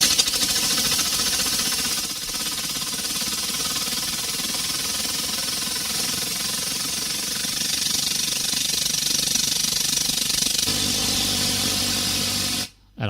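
Foley imitation of an airplane or helicopter, made with a lawnmower and mouth sounds: a loud, continuous droning roar with hiss, steady for most of its length before cutting off abruptly at the end.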